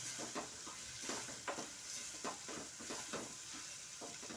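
Tomato and onion cooking in oil in a pan make a steady, faint sizzle with regular scraping stirs of a spoon, close by with no voices.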